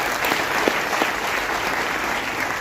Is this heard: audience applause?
yes